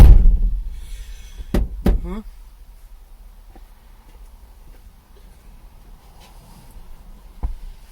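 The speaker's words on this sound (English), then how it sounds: "Let's close that door." A door on a VW T4 camper van slams shut with a sharp, loud thud, followed by a second knock and a faint later bump, while people talk quietly nearby.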